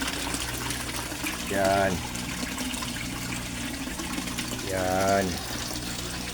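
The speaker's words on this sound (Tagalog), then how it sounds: "ang lakas-lakas ng aerator" A Resun aerator pump churns the water of a koi fish pond, a constant rushing, bubbling wash close by, under two brief spoken words.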